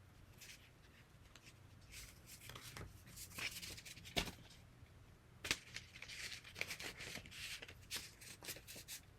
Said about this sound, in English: I'm gonna use like 5 of these note cards and then come back later whenever I want. Okay, now I have to shuffle these.